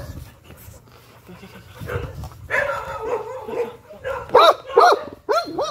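A pitbull puppy gives a few high, yelping barks and yips near the microphone toward the end, after quieter whimpers and a soft hum in the background.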